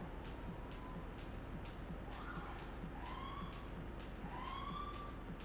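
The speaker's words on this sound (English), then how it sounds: "I hear the sirens" Police sirens wail in the GTA 5 video game, a steady rising and falling whoop that repeats continuously at moderate distance beneath a constant background hum, with no speech.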